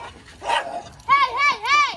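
A small dog gives a few short barks and yips close by during a backyard whiffleball game, with voices around them.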